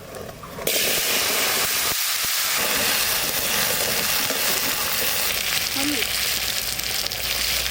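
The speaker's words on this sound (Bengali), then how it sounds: "পাতা শুকনো লঙ্কা, কালো জিরে আর সাদা জিরে একসঙ্গে দিচ্ছি।" Bay leaf, dried chili, black cumin and white cumin hit hot oil in a village kitchen pan, bursting into a loud, continuous sizzle and hiss that holds steady after an abrupt start; no one speaks.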